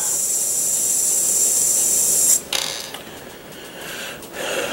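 An airbrush at about 15 PSI hisses steadily with a high airy spray of paint, then cuts off abruptly and resumes in shorter, softer bursts.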